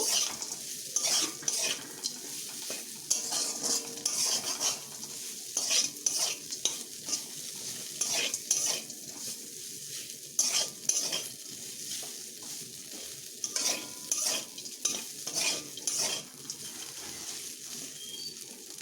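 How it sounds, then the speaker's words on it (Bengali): A spoon stirs crushed peanuts through potatoes in a pan, giving repeated scraping strokes over a faint sizzle, close and fairly steady in rhythm, with no talk. "বাদামগুলোকে আলুর সঙ্গে একটু মিশিয়ে নেব"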